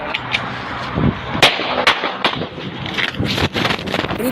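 Several sharp gunshot cracks from a security guard's gun ring out irregularly amid rough, noisy background commotion at a roadside work site in Calamba, Laguna, some close and loud, others fainter.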